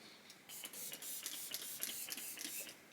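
A makeup setting spray bottle gives a series of short, sharp hissing bursts in quick succession, close by and with no talking.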